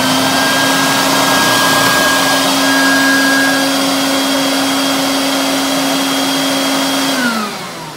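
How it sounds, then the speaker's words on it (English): A shop vacuum cleaner runs in a workshop, switched on automatically with a sander. Its loud, steady whine holds a strong hum, then winds down and drops in pitch near the end. "The vacuum turns on automatically when I'm using the sander."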